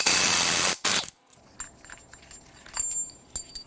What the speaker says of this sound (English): We're going to remove the giant crank pulley bolt first.